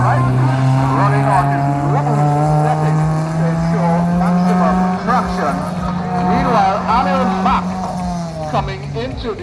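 A turbocharged Nissan Pulsar race car accelerates hard through a gymkhana run, its engine droning steadily and shifting pitch, with a commentator talking over it almost the whole time.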